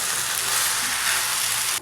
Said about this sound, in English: Keep stirring on a slow flame for about 3 to 4 minutes.